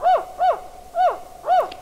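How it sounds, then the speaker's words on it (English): A California spotted owl calls in blue oak woodland, giving four evenly spaced, clear hoots about half a second apart, fairly loud and close, with no talk over them. "California spotted owls"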